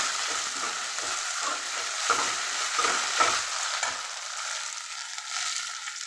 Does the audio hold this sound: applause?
no